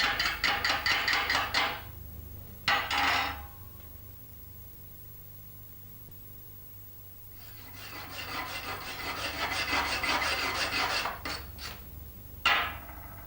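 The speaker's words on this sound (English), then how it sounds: "Eye protection is essential when using the chipping hammer to remove the slag left on the weld" Rapid bursts of a steel chipping hammer knocking slag off an arc weld bead, several quick rattling strike series separated by quiet pauses, close and sharp.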